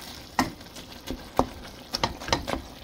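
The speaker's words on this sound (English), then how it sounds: "So I'm browning some burger." Ground beef browning in a pan for chili, with a handful of sharp spatula scrapes and taps spaced irregularly over a faint, low sizzle, close and quiet.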